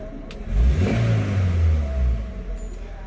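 An old overheated Toyota Avanza engine revs once, rising and falling over about two seconds with a mid-pitched drone and slight clatter, close and fairly loud with no talk.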